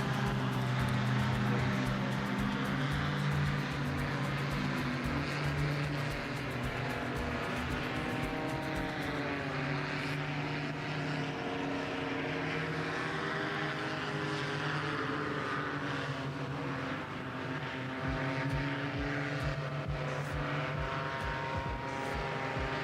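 A paramotor's engine and propeller hum steadily as it flies a slalom course at the FAI World Paramotor Slalom Championship finals, a continuous buzzing drone whose pitch rises and falls through the turns, at a moderate distance.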